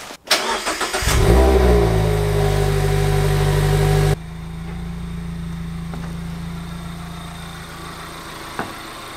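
A roadster's engine starts with a short whir and catch, then revs up loudly and settles into a steady mid-pitched hum on a summer drive, dropping to a quieter running drone partway through.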